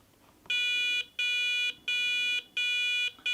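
An electronic brake fluid tester sounds four long, loud tones in a regular on-off pattern, close and insistent, with no talking.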